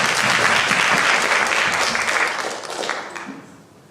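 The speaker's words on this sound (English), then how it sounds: "Let's give Landon a round of applause" A crowd of students applauds after a correct math answer, dense clapping holding steady and then thinning out toward the end.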